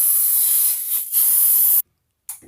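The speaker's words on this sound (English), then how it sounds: "spray a little in the loaf dish" A loud, steady hiss of cooking spray into a loaf dish in two long bursts, a brief pause between them, then a short final spurt after a moment of silence.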